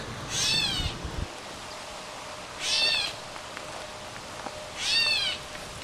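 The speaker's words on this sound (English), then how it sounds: "you hear the catbird, who harasses me all day long to feed him" Three mewing calls of a gray catbird spaced a couple of seconds apart, each a short nasal whine over quiet outdoor background.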